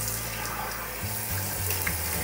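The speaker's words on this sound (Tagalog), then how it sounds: "magbanlaw na tayo mga inday" Cold tap water runs steadily into a sink while someone rinses their face, a continuous close splashing wash with slight shifts in flow and no talking.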